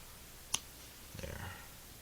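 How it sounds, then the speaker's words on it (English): Scissors cut through thick moccasin material: a sharp single click, then a brief crunchy snip lasting about half a second, quiet and close. "It's making my scissors a little grumpy."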